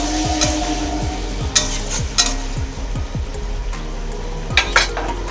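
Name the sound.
water added to frying pan, sizzling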